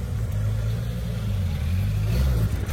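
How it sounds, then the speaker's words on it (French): A Ferrari race car at a classic car racing event drives by with a low, steady engine drone that swells slightly near the end, heard at moderate distance. "Ferrari derrière."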